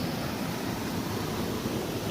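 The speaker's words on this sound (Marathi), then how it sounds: "डोंगरावरून असं पाणी येतंय." Water pours down a tall mountainside at Naneghat, heard as a steady, dense roar of rushing water with no breaks and no voices.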